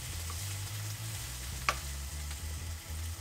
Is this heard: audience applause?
no